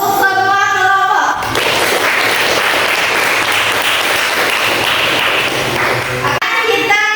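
Classroom of pupils gives a round of applause for all the student groups, steady dense clapping lasting about five seconds between a teacher's spoken remarks before and after.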